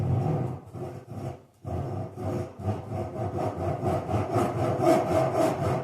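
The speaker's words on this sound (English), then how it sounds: "Take my handsaw, I can start my cut." Handsaw cutting through wood with steady, close back-and-forth rasping strokes, a brief pause near the start and then continuous sawing, loud and alone.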